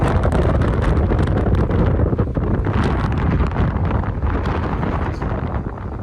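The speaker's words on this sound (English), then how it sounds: "Big old gusts are blowing now." Strong wind gusts buffet a microphone at a small airfield, a loud, continuous roaring rumble with surging gusts and no voices.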